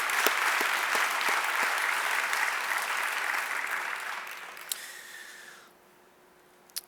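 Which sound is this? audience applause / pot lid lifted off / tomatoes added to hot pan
audience applause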